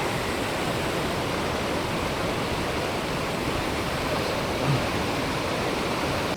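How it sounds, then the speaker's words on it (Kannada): A waterfall roars steadily and loudly, a dense unbroken hiss and rumble with no pauses, heard alone without voices. "ನಿಜವಾಗ್ಲೂ ಹೇಳ್ತೀನಿಲ್ಲ ತುಂಬ ಚೆನ್ನಾಗಿದೆ ಫಾಲ್ಸ್ ಅಂತೂ"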